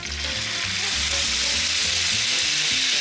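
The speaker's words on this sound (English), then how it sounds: "I'm loving the sizzle." Loud, steady sizzling and crackling of duck frying in a hot pan, with occasional scraping or stirring sounds underneath.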